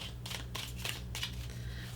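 Tarot cards being shuffled by hand, a soft, close riffling and sliding in several short bursts over a quiet background, with no talking.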